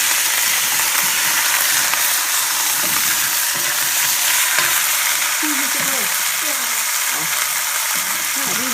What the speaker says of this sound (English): You start to brown your meat and turn it.